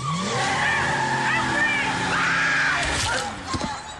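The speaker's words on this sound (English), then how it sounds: "Car, 1980s model of some sort" A 1980s-model car drives past outdoors on a quiet night, its engine and tire noise loud and steady for about three seconds before fading out.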